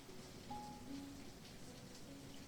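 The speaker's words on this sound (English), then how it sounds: "the sound of soft rain spread throughout the silent bedroom" Soft rain in the visual novel game Angels With Scaly Wings makes a quiet, steady hiss with faint patter, broken by a few low tonal notes from the game's background sound.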